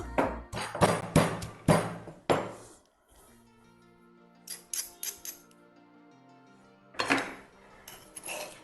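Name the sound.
pounding green chilli, garlic and ginger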